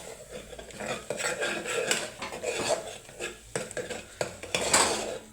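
A spoon stirs egg with masala and salt in a pan for egg macaroni, with repeated clanking scrapes of metal on the pan over a low sizzle.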